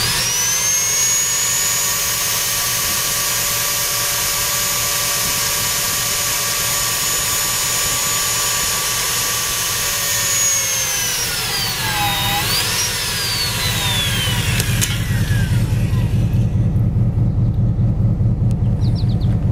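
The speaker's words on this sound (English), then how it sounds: "You also notice that the wrench is an electric wrench and it's non-impacting." A non-impacting electric wrench runs steadily on a column wear plate fastener, a loud continuous whine that bends downward in pitch near the end as the bolt tightens, then gives way to a rougher grinding hum.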